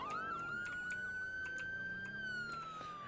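Police car siren from the Roblox game Maple County, a steady electronic wail holding a high tone with slight pitch swells, loud and alone without any talk.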